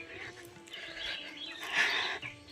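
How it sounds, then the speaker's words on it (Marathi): Birds chirp outdoors near a village, with short bright tweets rising over soft background ambience, fairly faint and close. "पक्ष्यांचा आवाज घ्या"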